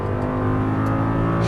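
An Audi R8 at full throttle on the Exotics Racing Las Vegas track, its engine a loud, steady, close drone held throughout.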